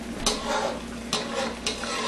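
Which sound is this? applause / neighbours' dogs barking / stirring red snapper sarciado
stirring red snapper sarciado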